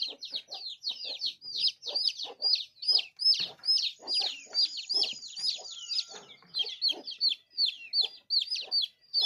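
A crowd of chicks cheeps constantly, many high, quick peeps overlapping in a busy, unbroken chorus.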